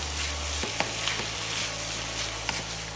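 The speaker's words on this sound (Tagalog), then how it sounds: "Then, ilalagay ko na rin ang ating pork cubes." Pork cubes fry and get stirred in a pan, with a steady sizzle and a few sharp scrapes or clinks of the utensil. No one speaks.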